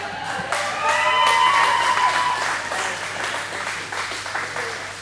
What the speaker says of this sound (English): Big round of applause for Chris, everybody